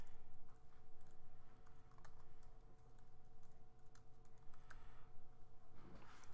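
Someone types on a computer keyboard, soft irregular key clicks, quiet and close over a low steady hum.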